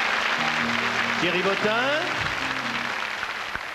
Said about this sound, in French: le public généreux vous applaudit